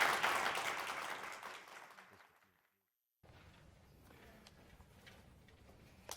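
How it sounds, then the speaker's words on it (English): Applause for panelists at a religious freedom discussion event, starting strong, fading out over about two seconds into a brief silence, then followed by quieter room sounds. "Let's please give them a round of applause."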